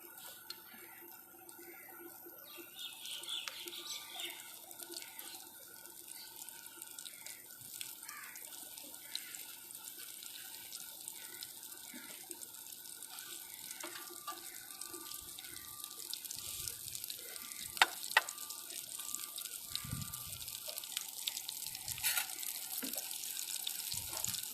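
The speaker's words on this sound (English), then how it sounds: "so now I'll just fry it." Food fries in hot oil in a home kitchen with a steady, fairly quiet sizzle and crackle, with occasional pops and faint handling sounds.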